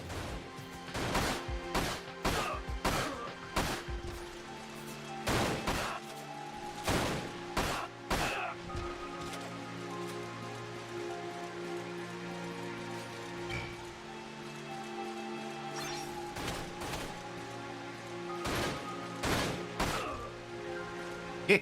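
Gunshots in Dirge of Cerberus: Final Fantasy VII, sharp cracks fired singly and in short bursts with quiet gaps between, over a low ambient game background.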